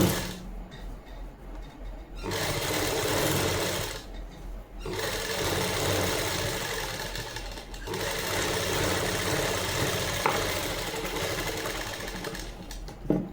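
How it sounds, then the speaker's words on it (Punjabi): A sewing machine stitching a seam on a Punjabi suit, running in loud continuous bursts with brief pauses between runs, close up and alone without talk. "ਇਦਾਂ ਆਪਾਂ ਇੱਕ ਸਲਾਈ ਇਹਨੂੰ ਸਿੱਧਾ ਕਰਕੇ ਲਗਾਵਾਂਗੇ"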